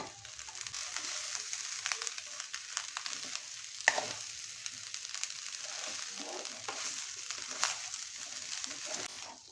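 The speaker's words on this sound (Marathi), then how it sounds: "आता आपण जे मंचुरियन केले आहेत ना फ्लॉवर मंचुरियन ते आपण ह्याच्यामध्ये ॲड करूया" Cauliflower manchurian tossed into fried rice in a hot pan, with a soft continuous sizzle and frequent scraping stirs and clinks, one sharper knock midway, at low volume.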